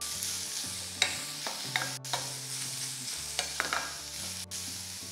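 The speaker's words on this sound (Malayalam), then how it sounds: "സവാള ഒന്ന് സോഫ്റ്റ് ആകുന്ന വരെ വഴറ്റിയെടുക്കുക." Onions for a tomato stew sauté in a pan, sizzling softly while a spoon stirs them with occasional scrapes and clinks, close and fairly quiet with no talking.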